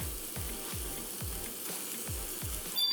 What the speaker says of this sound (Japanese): 全体を混ぜ合わせていったんですね。